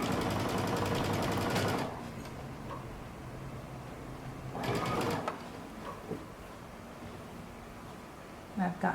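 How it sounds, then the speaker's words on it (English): A sewing machine stitches a sleeve seam on a mustard sweater in two loud running bursts separated by a quiet gap, followed by a few faint clicks at the end. "You're going to continue to sew around your sleeve."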